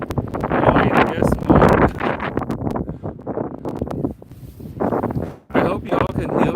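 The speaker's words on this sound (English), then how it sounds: "It's a little bit windy, as always at the beach." Wind buffets the microphone on a Baltic Sea beach, gusting and rumbling in uneven surges while a person talks over it throughout.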